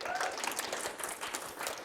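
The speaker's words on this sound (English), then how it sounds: "Can we please give a round of applause for Tim?" Steady, dense applause from an audience for keynote speakers at a regional session, continuous clapping filling the whole short clip.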